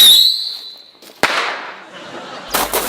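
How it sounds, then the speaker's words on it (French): A firework rocket launches with a rising whistling squeal, then a sharp crack bursts out and decays into a hissing rush, with another burst of noise near the end. "la fusée va partir normalement comme ça."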